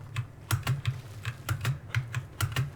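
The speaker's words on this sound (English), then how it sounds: "So you get to listen to my keyboard." Steady computer keyboard typing during a Guild Wars 2 game session, with close, crisp key clicks and thumps in an irregular rhythm of quick bursts, heard alone.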